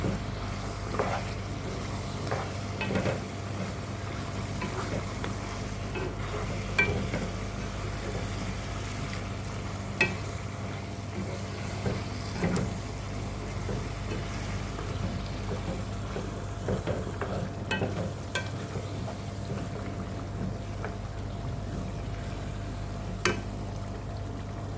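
Chicken pulao mixture frying in a pan while being stirred, a steady low hiss with scattered scraping clicks throughout.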